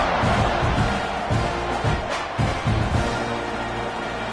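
A football stadium crowd before kickoff at a TCU versus Texas A&M game, a dense, loud, continuous roar of cheering that holds steady throughout, with faint voices mixed into the wash.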